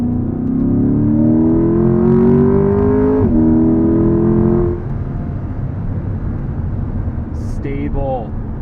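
A 2021 Chevrolet Corvette Convertible Z51 drives hard through a corner, its engine note rising loud and close with a shift partway through, then settling into steady road and wind noise.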